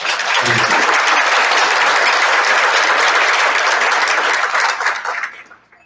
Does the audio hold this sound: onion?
no